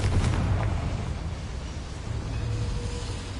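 A Confringo fire spell explodes in the Hogwarts Legacy video game on PS5, a loud rumbling burst that rolls into a low, fading roar.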